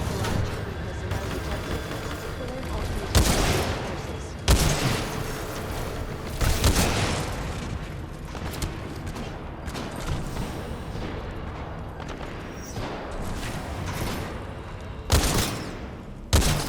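Gunfire in Titanfall 2 gameplay crackles as a steady mid-level battle din with several sharper loud shots or blasts standing out, and a voice talks over parts of it.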